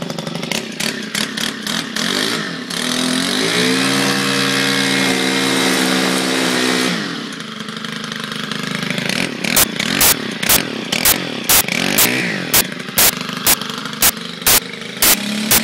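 A Stihl FS90R string trimmer engine is warm started and runs, revving loudly and steadily for a few seconds, then drops back with a series of sharp rhythmic pops and bursts near by.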